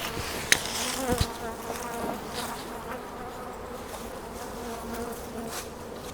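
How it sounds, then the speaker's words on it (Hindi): Honey bees drone steadily around a hive box on a lychee honey farm, a dense continuous buzz up close with a few sharp knocks early on and no talking. "मधुमक्खी घुस गई थी अंदर में।"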